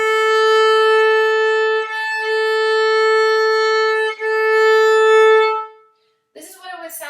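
Violin bowed with relaxed arm weight, giving a full, steady sustained tone with a few smooth bow changes, alone and close; a voice starts talking right after it stops.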